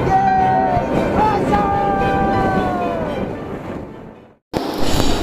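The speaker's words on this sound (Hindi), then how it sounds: "ये जो आप फुटेज देख रहे हो, ये है नाहरलगन का रेलवे स्टेशन" A train at Naharlagun railway station rumbles loudly and close, with drawn-out squealing wheel or brake tones over the heavy roar, a brief cut near the end before the rumble resumes.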